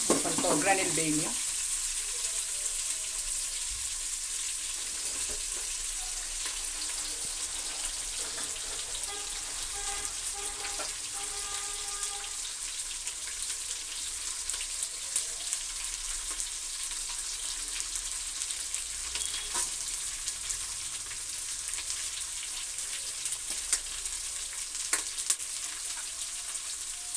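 Onion frying in hot tempering oil with greens added, a steady bright sizzle running throughout, with occasional faint stirring clicks and crackles close by.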